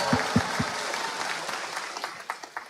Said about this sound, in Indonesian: terima kasih aplausnya